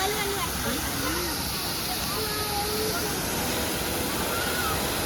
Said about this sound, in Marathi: मस्तपैकी पाणी पाहू शकता किती छान उडतंय